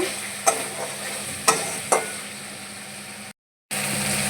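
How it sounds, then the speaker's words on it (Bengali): Ginger and tomato paste sizzling in a hot pan while being stirred, with a few sharp utensil scrapes and taps over a steady fry, then a brief cut before the sizzle resumes. "এই আদা টমেটোর পেস্টটা দিয়ে দিলাম হয়ে গেল"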